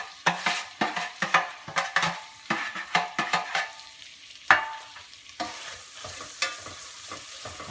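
Vegetables stirred in melted butter in a pan for a French fish stock, a run of close, rhythmic spoon scrapes and clatters over a soft background sizzle, pausing briefly near the end, no voices.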